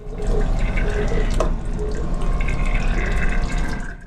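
Water runs steadily from a tap into a sink in a Polish intercity train toilet, splashing close by for a few seconds before the flow stops.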